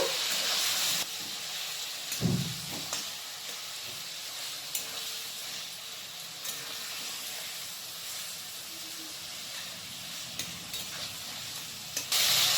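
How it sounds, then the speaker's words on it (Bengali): Marinated chicken pieces frying in hot oil in a wok, a loud continuous close sizzle and hiss with occasional stirring knocks as pieces are turned. "চিকেনের পিসগুলোকে আমি এপিট ওপিট করে দুদিকটা ভেজে নেব।"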